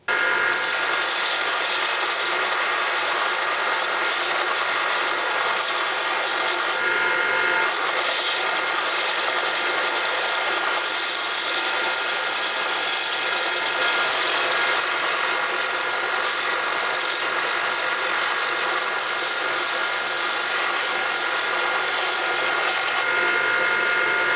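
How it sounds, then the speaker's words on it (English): A power sander grinding the corners of an antler and bone pressure flaker, a loud continuous abrasive whir with rubbing scrapes as the piece is worked, steady for the full stretch. "take it over to the sander, kind of work the corners over a little bit and make it a little more smoother"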